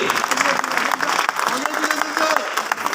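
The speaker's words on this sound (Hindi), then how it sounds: "जोरदार तालियों के साथ दोस्तों" Audience clapping at a stage program in a New Delhi auditorium, a dense continuous round of applause from a large crowd, with someone speaking over it on a microphone.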